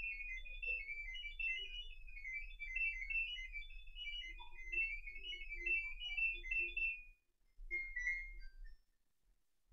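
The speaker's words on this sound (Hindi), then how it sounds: "अभी आप बीप साउंड सुन सकते हैं।" LG dual inverter air conditioner running its smart diagnosis program, giving a long, loud sequence of warbling electronic beep tones for about seven seconds, then a brief pause and a shorter burst of tones, with no talk.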